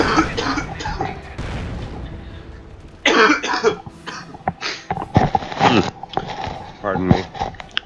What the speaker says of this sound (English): I took my headset off for a cough.